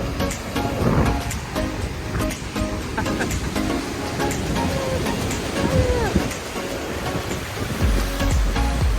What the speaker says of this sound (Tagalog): Nasang alon masyado.